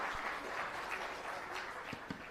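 School audience applauding together, a steady wash of clapping at moderate distance that carries on throughout, with no talking.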